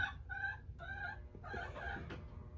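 Chicken clucking inside a building, a run of short harmonic clucks and squawks at moderate distance over low room rumble, with no talk.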